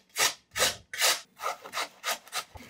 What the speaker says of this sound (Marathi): साल काढून झाले की लांब लांब असा बटाट्याचा किस करून घ्यायचा.